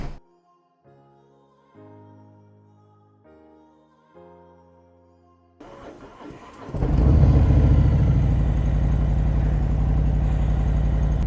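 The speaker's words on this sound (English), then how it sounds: "Let's go roll the bike out and start her up." Piano notes ring out alone before a motorcycle engine starts, first with a short cranking burst and then settling into a loud, steady idle as it warms up close by.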